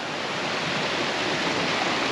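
Creek water rushes steadily past amid mountain fall foliage, a dense, continuous close-up wash with no breaks and no voices.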